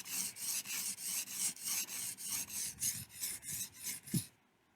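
A tape-wrapped knife blade is stroked back and forth on a 400 grit whetstone, giving about a dozen steady, rhythmic rasping scrapes, close and clear, before stopping abruptly.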